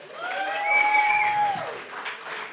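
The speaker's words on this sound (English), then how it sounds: "How about another round of applause for our friend Jeff?" Applause for a speaker at a Central Oregon pub talk held in a brewery, a steady crowd clapping with cheering whoops rising over it, loud and sustained before easing off slightly.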